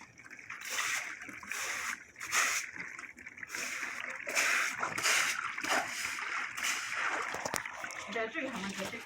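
Water splashes and sloshes as it is sprayed to wash debris off a surface during waterproofing work, a continuous spattering wash with voices talking over it.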